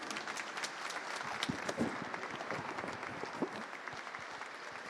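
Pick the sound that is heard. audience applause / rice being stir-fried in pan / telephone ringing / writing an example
audience applause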